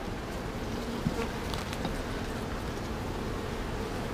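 Honeybees buzz in a dense, steady hum from an open colony during a hive inspection as frames are handled, with a few louder individual bees passing close by.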